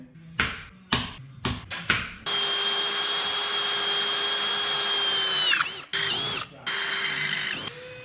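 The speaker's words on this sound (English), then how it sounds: "So I'm going to go through and just drill all these holes basically" A power drill up close drilling holes for spot welds on a VW T4 van: several short bursts, then a long steady whine that pitches down as the bit bites, followed by more brief runs.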